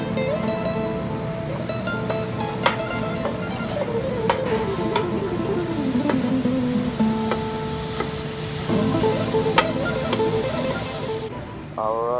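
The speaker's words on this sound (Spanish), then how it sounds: "Ahora estamos mezclando la carne con la cebolla." Meat and onion are stirred together in a frying pan for empanada filling, a steady loud sizzle with occasional utensil clicks, while tonal background sounds drift underneath.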